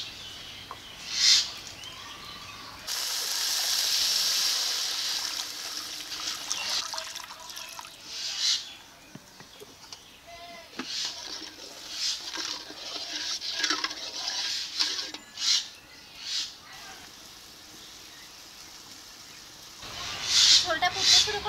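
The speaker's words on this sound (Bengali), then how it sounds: "এখন জল দিয়ে দিচ্ছি।" Water poured into sizzling, well-fried masala for boal fish curry gives a steady broad hiss and sputter that runs for most of the stretch, then drops away near the end.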